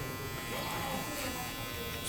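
An electric hair clipper buzzes steadily during a barbershop contour haircut, a faint continuous drone with someone talking over it.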